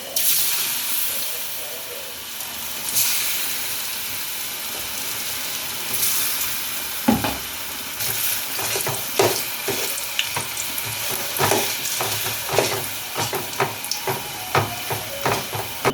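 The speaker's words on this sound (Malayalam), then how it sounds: "നമ്മൾ ഏത്തക്ക എണ്ണയിലിട്ടിട്ട് വറുക്കാൻ പോവുകയാണേ" Plantain (raw banana) pieces frying in a small amount of hot oil, giving a steady close sizzle with bursts of crackling and stirring clatter, no voices.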